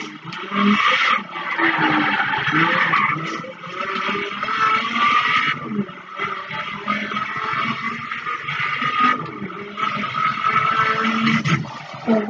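Corvette and Viper race cars in a video game roar continuously with dense, loud engine noise and intermittent bursts of tire skidding throughout, no voices over the racing.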